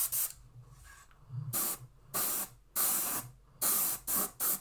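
Short bursts of an airbrush spraying thinned AK satin varnish onto a Monogram B-25 model kit, several hissing blasts of uneven length separated by quiet pauses, close up with no speech.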